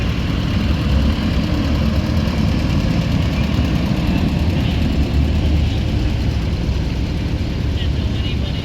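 A steady, loud engine idle runs throughout, matching a 1949 Cub tractor idling at an antique tractor show in Hastings, Minnesota. The low, even rumble continues without a break, with possible voices beneath it.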